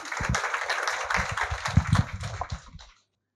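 An audience at a Mandukya Upanishad discourse claps for itself: a short, dense burst of applause lasting about three seconds before cutting to silence.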